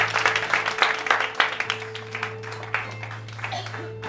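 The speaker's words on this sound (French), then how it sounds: "Dis, tu peux acclamer le Seigneur." Congregation at a church conference applauding and acclaiming the Lord, dense mid-distance clapping with scattered cheers over a steady low hum, fading slightly toward the end.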